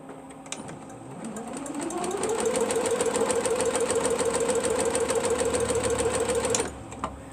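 Sewing machine joining quilt blocks, its motor starting after a second and ramping up to a steady, fast, close stitching whir that holds for several seconds before stopping abruptly.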